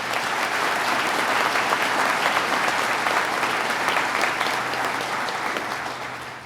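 An audience at a New York State Police Basic School graduation claps in a loud, sustained burst of applause that tapers off at the end.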